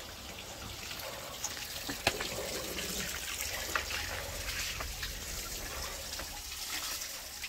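Water from a spring splashes and trickles steadily nearby, a continuous bubbling flow with occasional small drips and clanks.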